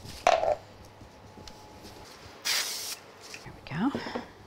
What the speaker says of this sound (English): I'm going to hit it with a little bit of spray glue too.